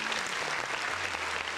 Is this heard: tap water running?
no